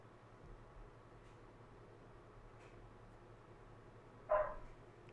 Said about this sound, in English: Bark. Dog.